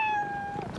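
A cat gives a single clear, drawn-out meow in a Temptations cat treats television commercial, close and prominent, trailing off into faint background sound.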